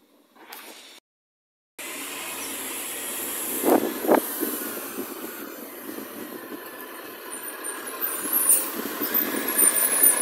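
A smoking truck runs with a constant mid-level rumble, a brief cut-out near the start and two sharp hissing bursts a few seconds in.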